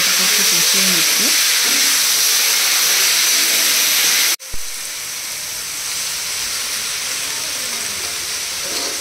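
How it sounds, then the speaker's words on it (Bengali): Cut tomatoes frying in a pan for tomato chutney at an outdoor picnic: a steady, loud, close hiss and sizzle with a sharp clunk midway, after which the sizzle continues slightly quieter. "প্রথমে টমেটোটাকে একটু কষিয়ে নিচ্ছে।"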